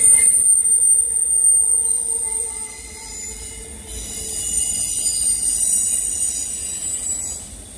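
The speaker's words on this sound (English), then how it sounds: "Some insane flange noises." A shrill, high-pitched flange squeal of train wheels grinding on the rails rings out over a low rumble, rising and fading, with no talking, on a late-night ride in suburban Atlanta.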